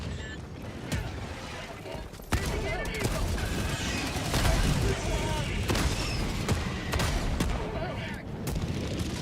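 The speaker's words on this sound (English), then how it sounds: "Ah, the mortar turret, guaranteed to kill us" A mortar turret in Helldivers 2 lets off heavy booming shots and bursts amid clanking mechanical noise and battle sounds, with a loud hit early on and sustained chaotic fire throughout, and a voice talking faintly underneath.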